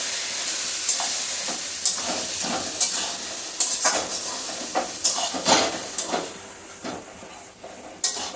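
Green banana mixture is stirred in a pan over low heat, a faint background sizzle broken by a string of irregular scraping and knocking strokes that grow more frequent in the second half, with no talking.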